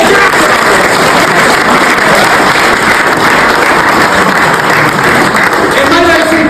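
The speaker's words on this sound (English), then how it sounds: "A round of applause for the son of" A crowd gives a loud, sustained round of applause for a speaker, dense steady clapping close and full for the whole stretch, with faint voices mixed in underneath.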